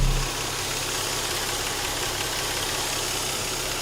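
An Infiniti car engine idles steadily with an even, broadband hum and faint mechanical rumble, close by and continuous without talk.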